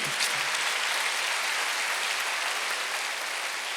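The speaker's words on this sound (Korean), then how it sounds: "박수하면서" A church congregation at a Sunday service claps together in dense, loud, continuous applause that fills the room evenly throughout.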